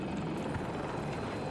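An enemy helicopter in Battlefield 2042 throbs with a continuous rotor and engine roar, steady and fairly near, filling the scene without voices.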